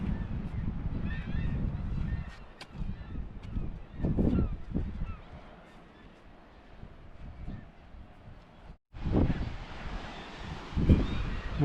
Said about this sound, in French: Quelques goélands aussi qu'on entend beaucoup.